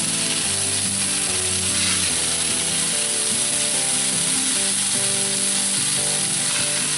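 A pot roast sears in a cast iron pan, giving a loud, continuous sizzle and crackle of hot fat close up. Occasional scraping and shifting sounds come through, and nobody speaks.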